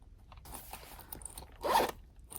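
Zipper on a brown Ipsy makeup bag pulled in a short rasping burst, close and distinct after some faint rustling handling sounds.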